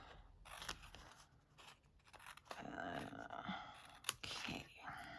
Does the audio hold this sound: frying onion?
no